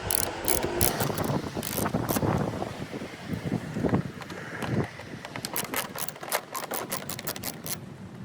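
Phillips screws being backed out of the number plate light on a Volvo XC90, a close, dense run of ratcheting screwdriver clicks with repeated sharp ticks over steady background noise, no talking.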